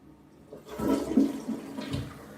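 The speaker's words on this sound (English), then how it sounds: "she has a thing about loud flushing toilets" A hotel room toilet at Resorts World flushes nearby, a short rushing whoosh of water that swells and then tapers off.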